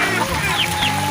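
Chickens cluck inside a curtain-covered coop on a rainy morning before feeding, giving several close, nasal clucks and short calls that overlap in quick, uneven bursts against a steady background hiss.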